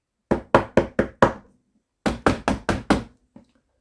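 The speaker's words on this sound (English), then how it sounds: "Suddenly, someone knocked at the door." Sharp knocks on a door, five quick raps, a short pause, then five more, loud and close with no talk over them.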